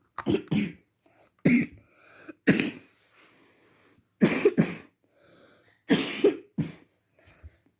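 Several bursts of coughing in separate clusters, close and fairly loud, with quiet pauses between them.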